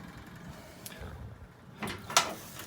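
Tailgate of a 1948 Crosley CoBra station wagon being lowered, faint metallic clicks and a couple of short sliding, clunking scrapes near the end, quiet and close.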